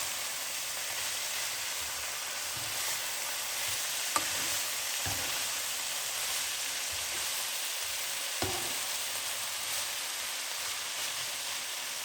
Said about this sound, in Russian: Капусточку я регулярно помешиваю, чтобы она была равномерно, слегка румяной.